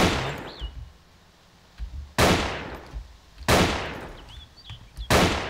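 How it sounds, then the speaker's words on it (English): Gunfire in the video game ARMA 2 with the DayZ mod: four sharp, loud shots spaced a second or so apart, each trailing off in a long echoing decay, with faint game ambience between them. "I'm just running towards the gunfire"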